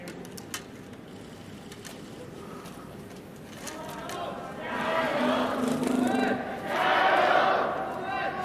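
A home crowd at a Beijing 2022 Paralympic wheelchair curling match between China and Sweden rises in cheers that swell twice, with commentary talk running underneath.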